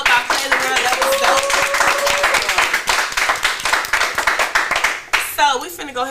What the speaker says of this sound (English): Clap it up for the video that we watched